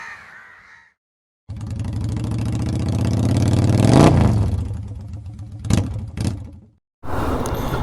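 A bus engine revs and rumbles close by in Kerala traffic, rising to a loud peak before dropping away, with a few sharp honks or knocks near the end and crows cawing around it.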